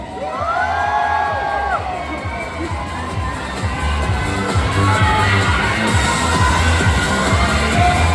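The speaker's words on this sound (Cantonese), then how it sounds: "亦都有冇啲打氣聲嚟聽下先" A large audience at a film box-office celebration event cheers and whoops loudly and continuously, with children's shouts rising above the crowd's steady roar.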